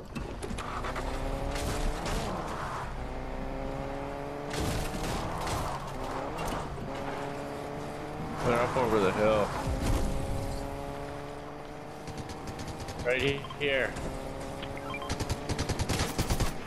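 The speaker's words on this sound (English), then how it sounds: "we got shooting, let's go get them" Scattered bursts of Fortnite gunfire crackle through a busy game mix with mechanical clanks and a steady hum, the heaviest volleys arriving in the middle and again near the end.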